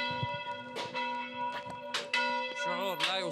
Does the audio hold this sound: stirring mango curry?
no